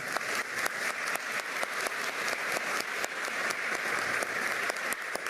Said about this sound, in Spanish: Fuertes los aplausos para el señor.